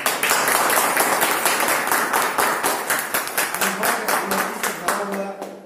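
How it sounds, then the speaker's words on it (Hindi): A crowd applauds loudly and densely, then the clapping thins into fewer, more distinct claps as it winds down. "शानदार स्वागत करते हैं हम लोग जोरदार ताली के साथ।"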